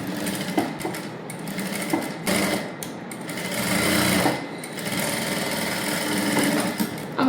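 A sewing machine stitches the lining of a princess-cut blouse, running in loud, rapid mechanical bursts with short pauses between runs.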